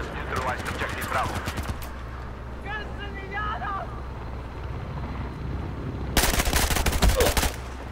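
Automatic gunfire in the Battlefield 4 video game, loud and rapid, with steady bursts against a dense battlefield rumble. Someone talks over the early part, and a fierce burst near the end stands alone.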